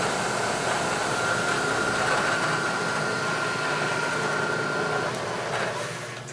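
A metal lathe running while squaring stock, its steady broadband motor hum and whine holding level throughout, close and continuous, easing slightly near the end.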